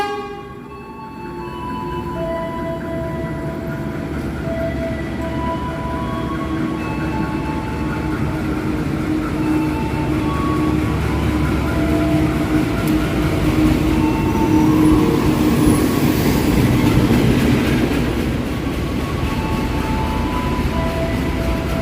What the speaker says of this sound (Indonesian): Serayu lambat 3 menit masuk stasiun Cikampek